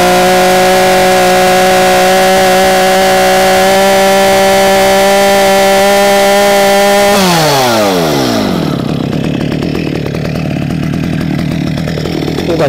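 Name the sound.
STIHL chainsaw revving over a stump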